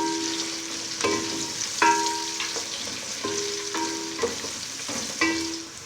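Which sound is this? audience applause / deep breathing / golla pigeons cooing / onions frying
onions frying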